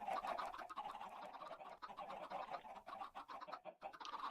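Chickens in Minecraft, hatched from thrown eggs on an automatic chicken ranch, cluck in a busy, continuous stream of overlapping calls at close range, with no one speaking over them.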